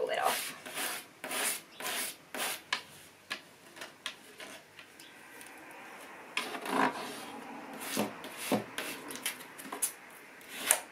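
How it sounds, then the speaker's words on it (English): A hand file rasps along the edge of a plastic strip on a countertop, a series of close, scratchy back-and-forth strokes in irregular bursts with short pauses between them. "I'm going a little bit slower, and I'm just doing my file at an angle like that."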